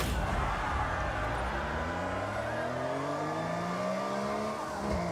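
A small car's engine revs high in Forza Horizon, rising in pitch through several gears with tire noise underneath, loud and close with no speech.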